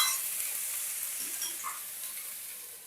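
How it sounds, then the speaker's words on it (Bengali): Mixed vegetables frying in a pan for a lightly spiced vegetarian sabji, giving a close, steady, loud sizzling hiss with faint soft presses and scrapes. "আমি একটু চাপা দিয়ে দিয়ে এবারে ভাজবো, যাতে তাড়াতাড়ি এটা সেদ্ধ হয়ে যায়"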